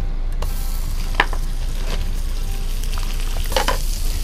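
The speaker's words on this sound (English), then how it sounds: "These scallops go in." Scallops and butter sizzle loudly in a hot frying pan, a dense continuous crackle with occasional sharper pops and a faint scrape of stirring, close up and without speech.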